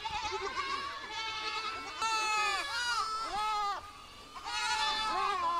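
Goats and young kids on a large Kerala goat farm bleating repeatedly, several overlapping wavering calls in bursts, loud and close over a low background murmur.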